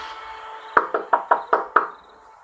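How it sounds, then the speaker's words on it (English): Six hard, evenly spaced knocks land on a door, loud and close over a faint steady hum, in a short burst lasting about a second. "so I just knocked really hard."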